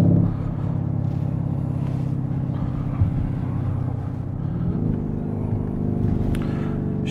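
A Lamborghini Urus fitted with a Keyvany kit idles with its exhaust valves closed, a deep steady rumble close by that lifts slightly in pitch partway through.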